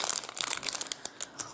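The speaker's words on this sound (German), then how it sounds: "ich brauche die Tüte sowieso nicht mehr. Das schnippel ich jetzt einfach auf." A plastic mail bag is snipped open with scissors up close, giving a run of crisp crinkling rustles and sharp cuts over about a second and a half.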